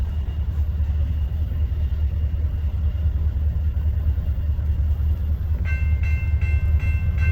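A southbound freight train from Council Bluffs rolls steadily through Pacific Junction, Iowa, with a heavy low rumble throughout and a loud horn blast near the end, close by and with no talking.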